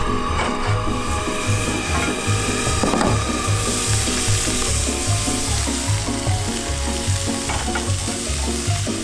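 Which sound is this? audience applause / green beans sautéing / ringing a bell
green beans sautéing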